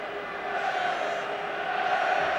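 A football crowd at a 2002 Euro qualifier between Wales and Italy roars in a steady, dense wall of cheering and shouting that swells slightly and holds throughout, with no distinct voice standing out.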